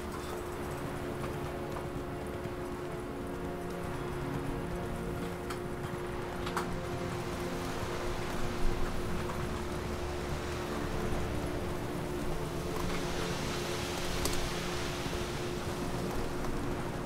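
Roach the horse gallops in The Witcher 3, a steady stream of hoofbeats under a constant wash of ambient noise, moderately loud with no voices.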